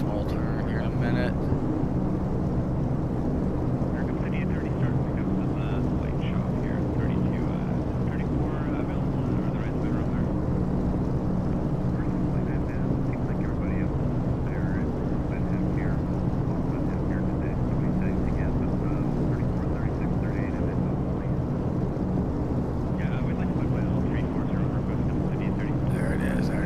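Twin piston engines of a DC-3 in X-Plane 11 drone steadily through a mountain flight, a dense low rumble that holds unchanged throughout, with a voice talking faintly now and then.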